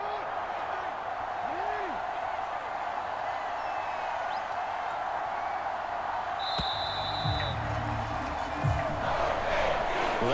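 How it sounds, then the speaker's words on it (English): Home crowd cheering and applauding in the Madden NFL 23 video game during a Ravens vs. Colts matchup, a steady distant stadium roar with faint claps under a commentator's voice. "And the home crowd applauding"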